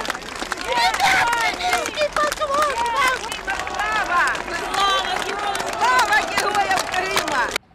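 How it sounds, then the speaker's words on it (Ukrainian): Crowd on a town square in Crimea greeting returning police officers with cheers and applause, dense close clapping mixed with shouting voices and whistles, stopping abruptly at the end. "На площі правоохоронців зустріли вітаннями й оплесками"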